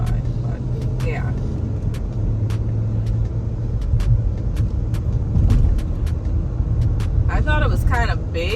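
Inside a new car on the move, a steady low engine and road rumble fills the cabin, with a rattle or clicking sound near the end.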